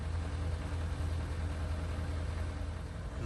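A car engine idles steadily through a vehicle inspection, a constant low rumble with no talk over it.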